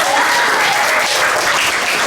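A classroom audience claps steadily, a dense, even patter of hands filling the room for a couple of seconds with no talking over it.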